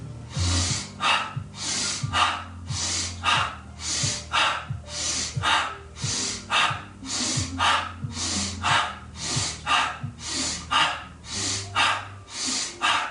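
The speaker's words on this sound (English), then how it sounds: "Deeper inhale, quicker exhale." Rhythmic yoga breathing exercise, a steady series of about twenty sharp, quick exhales through the mouth alternating with deeper inhales, close and clear with no talking over it.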